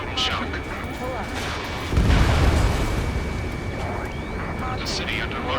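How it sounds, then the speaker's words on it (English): Combat in the Ace Combat 7 flight game, with a heavy boom-like blast over a continuous roaring rumble and scattered gunfire, while a voice speaks over the din. "Gunfire and the roar of jets echoing through the streets."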